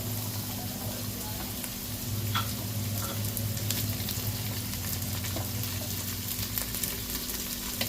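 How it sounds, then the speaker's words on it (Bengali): Green beans shallow frying in a pan give a steady, dense sizzle that holds at an even level throughout, close and continuous, with a faint low hum beneath. "তারপরে আমি দেবো বিনস, একটু হালকা শ্যালো ফ্রাই"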